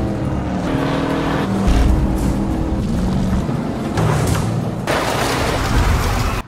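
A car engine roars loudly and steadily, surging in bursts as the vehicle speeds off, with a rumbling low end throughout.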